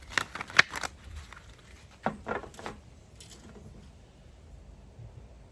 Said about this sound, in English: shuffle them carefully, and then I will cut the deck